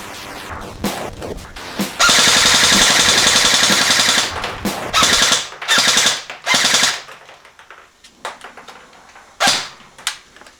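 Airsoft electric gun firing fully automatic, loud close bursts of rapid buzzing shots, one long sustained burst followed by several shorter ones separated by pauses, with a lone shot near the end.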